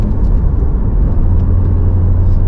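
A twin-turbo car engine warming up idles with a deep, steady rumble and low throbbing hum, loud and close, running continuously without revving.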